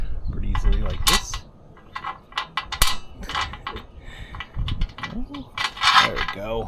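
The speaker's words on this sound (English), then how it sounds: "we have M8x16 hex bolts we're going to feed into the rails" Metal M8x16 hex bolts being fed into roof rack rails on a Front Runner Slim Rack, giving scattered metallic clinks, taps and scrapes up close, with a voice speaking between the sounds.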